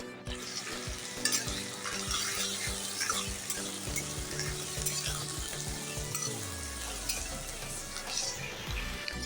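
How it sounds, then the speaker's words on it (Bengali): Chopped onions fry in oil in a wok with a steady close sizzle, broken by regular stirring scrapes, with no voices. "প্রথমে কড়াইতে তেল দিয়ে আমি পেঁয়াজটাকে ভেজে নেব।"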